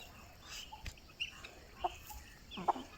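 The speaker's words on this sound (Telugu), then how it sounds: "ఈ తల్లి కోడి" A mother hen, pregnant and soon to lay, gives a few soft, scattered clucks amid quiet farmyard background.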